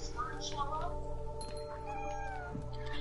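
A cat meows several times in the video game What Remains of Edith Finch, short tonal cries over steady game background sound, with a person talking alongside.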